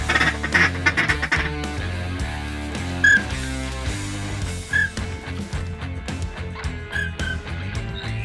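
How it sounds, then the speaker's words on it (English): A flock of pintail ducks and mallard greenheads calls nearby, with repeated quacks and overlapping bird calls over a steady, layered background. "big greenheads had a big old group of pintails come by"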